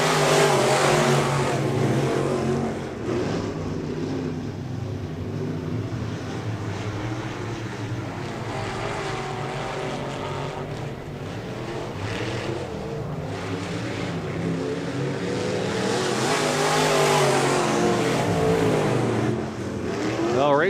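Race cars roar around the oval at Rock County Speedway during the 2018 Rock County Fair races, a steady, loud engine drone that swells and fades as the pack passes, with an announcer talking over it.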